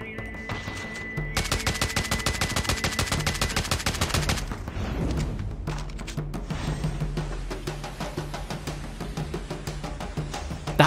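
Gunfire in a Call of Duty Mobile battle royale match, rapid, dense bursts of loud, close shots that fire continuously, then thin to a steadier trailing run.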